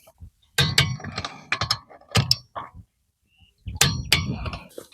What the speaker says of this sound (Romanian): Strângem din nou la 210 Nm.